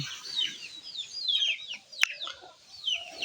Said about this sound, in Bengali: এখানে কিন্তু মুরগি হাজির হয়ে গেছে আর দেখেন মুরগি